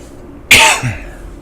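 A single sharp cough bursts out close by, followed by a smaller second hack, in an otherwise quiet setting.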